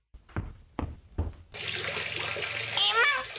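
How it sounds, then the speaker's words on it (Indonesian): Water gushes steadily from a broken tap that won't close, a loud continuous rush that starts abruptly after a few short knocks or voice bursts, with children talking nearby. "Keran airnya kok nggak bisa ditutup?"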